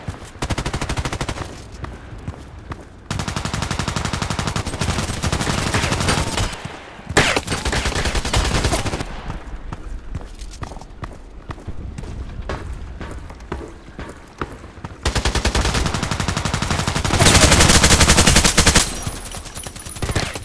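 Rapid bursts of automatic gunfire from an AUG A3 assault rifle in the video game Contract Wars crackle almost continuously, loud, close and metallic, with brief pauses and heavier booming volleys near the end.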